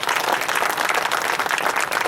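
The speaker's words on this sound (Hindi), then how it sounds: "इसमें जोरदार ताली होनी चाहिए।" Loud, dense audience applause at a rural tehsil farmers' gathering, steady clapping filling the whole stretch with no talk over it.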